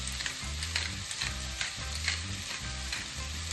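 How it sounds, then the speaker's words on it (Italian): Speck browning in a pan for a pumpkin and potato risotto, a steady loud sizzle with frying crackle and occasional stirring scrapes, no talk. "Aggiungo lo speck e rosolo un pochino."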